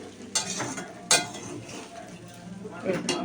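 Chowmein noodles stirred in a hot pan, with a soft continuous sizzle and scraping, and a few brief clinks of a utensil against the pan. A voice speaks over the cooking throughout.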